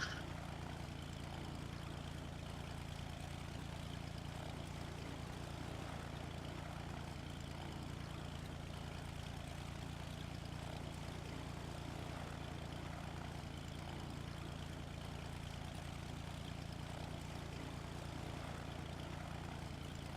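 A Cessna engine in a flight simulator game drones steadily for the whole stretch, a constant propeller hum at even volume with no voices.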